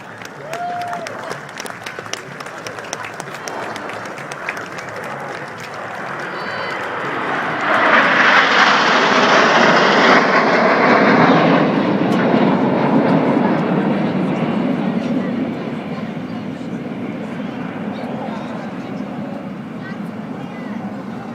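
Red Arrows BAE Hawk jets roar past at the Farnborough International Airshow, a loud jet swell building around the middle and fading slowly, with crowd applause and an announcer's voice running underneath.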